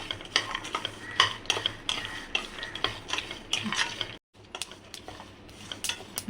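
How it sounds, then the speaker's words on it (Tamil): Quiet crackling and scraping as pumpkin and sunflower seeds roast in a pan, with small pops and a spoon stirring, close by. "பூசணி விதை, சூரியகாந்தி விதை, அதெல்லாம் நல்லா இந்த பொரியிறது நல்லா சத்தம் வரும்"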